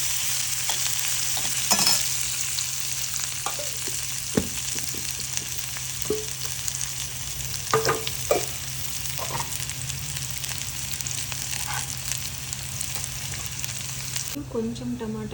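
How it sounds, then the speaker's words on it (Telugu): Chopped onion and green chilies frying in a pan for moong dal khichdi, a continuous close sizzle with scattered stirring scrapes and clinks against the pan. "ఆనియన్, పచ్చిమిర్చి వీటన్నిటిని దూరగా వేయించుకోవాలి."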